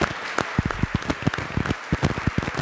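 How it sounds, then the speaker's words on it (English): An audience at a city state-of-the-city address in Portsmouth, Virginia applauds an opera singer after the national anthem, a dense burst of claps that is loud and close and carries on steadily. "Let's give Keith a round of applause again."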